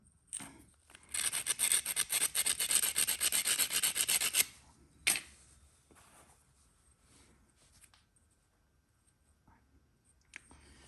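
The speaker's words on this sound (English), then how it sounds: "Just raking across there to create a bevel." Tool or stone raked repeatedly across the edge of Painted Buffalo River chert to bevel it while flint knapping; a close, fast, gritty rasping burst lasting a few seconds, then one short scrape and faint handling noises.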